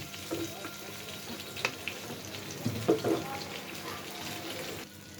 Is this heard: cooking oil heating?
yes